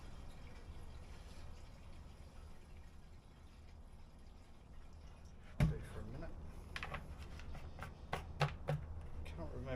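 Fuel poured without a funnel into the wide tank opening of a Petter A1 vintage stationary engine, a quiet trickle that gives way to a sharp splash and clatter, then scattered knocks and drips nearby.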